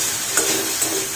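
A vegetable curry filling for momos is stirred in a frying pan, a steady hiss of sizzling with a couple of brief scraping strokes of the spoon.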